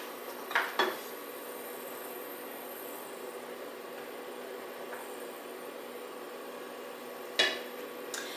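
Chorizo going into hot oil in a frying pan, a steady soft sizzle running throughout, broken by a few sharp clanks of utensils against the pan near the start and end.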